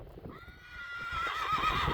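A horse whinnies in a paddock at a stable, a rising, wavering neigh that grows louder and closer over two seconds, with faint hoof and movement noise beneath.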